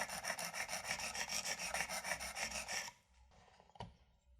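A knife blade is drawn back and forth across the abrasive of a Precision Adjust sharpener, making a rapid rhythmic rasping scrape for about three seconds. A few quieter scrapes and a small click follow.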